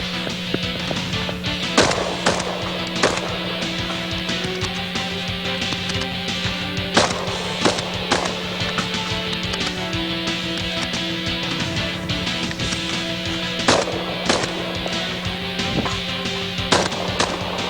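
Gunfire on a shooting course, firing a shotgun at ten targets, comes as a series of loud, sharp reports at irregular intervals. The shots sound close and rise above a constant steady background hum, with no speech.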